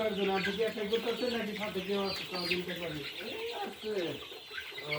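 Chickens and a rooster cluck on a small Bangladeshi poultry farm, a steady run of overlapping calls close by, with people talking over them throughout.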